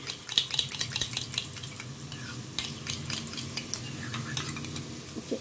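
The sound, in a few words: whisking sour yogurt with a spoon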